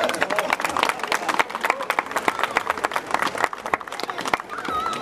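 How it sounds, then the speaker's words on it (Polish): Applause from a crowd at the closing ceremony of a bicycle rally in Krynica, dense clapping under an ongoing voice. "Myślę, że też duże brawa."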